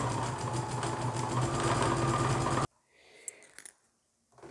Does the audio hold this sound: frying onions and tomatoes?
no